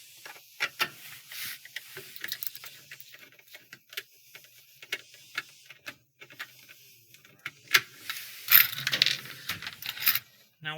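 Two 5/16 screws come out of a washing machine motor guard, heard as scattered close metallic ticks, taps and small clinks with quiet gaps between, growing busier toward the end.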